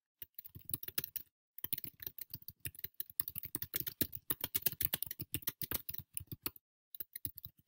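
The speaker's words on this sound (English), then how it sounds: "I'll start typing." Steady typing on a computer keyboard into a blank word-processor document, a close, quiet run of rapid key clicks with a couple of short pauses.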